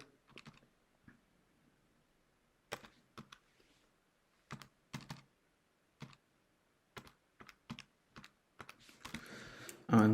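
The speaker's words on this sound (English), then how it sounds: "Type that into the calculator." Calculator keys are tapped one by one while numbers are entered, making sparse, soft, close clicks with irregular pauses in a quiet room.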